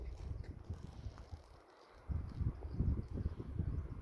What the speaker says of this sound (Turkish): Az bir rüzgar var.